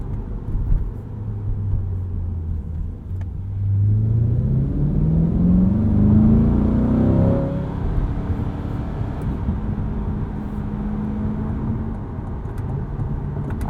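A 2020 Chevrolet C8 Corvette Stingray Coupe on standard suspension pulls hard, its V8 engine rising in pitch through each gear and stepping down at crisp paddle shifts before settling into a steady cruise drone.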